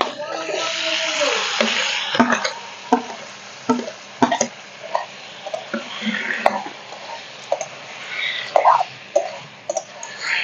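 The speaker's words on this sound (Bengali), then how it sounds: "ভালো করে কষে নেব মশলার সাথে" Boiled banana flower and fried potato pieces are stir-fried with spices in oil in a village kitchen, giving a steady sizzle broken by scraping and clattering stirs, with a voice talking over it.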